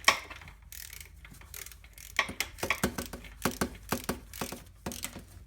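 A hand ratchet tightens a 14 mm starter bolt on a Mazda RX8, giving a run of crisp, close clicks in short rhythmic bursts with brief pauses between strokes, and no talking over it.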